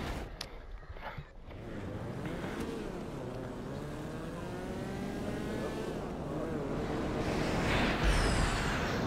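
A revving race-car engine in GTA 5 Online whines and shifts pitch steadily throughout a custom race, with a voice speaking briefly near the start.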